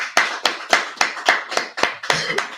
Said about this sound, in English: You haven't clapped it up. Clap.